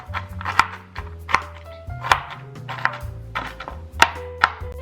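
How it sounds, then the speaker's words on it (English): A knife roughly chops toasted walnuts on a board: a run of sharp, crisp cuts at an uneven pace, close and clear, with light knocks between strikes and no talking. "So now what I'm gonna do is give them a rough chop."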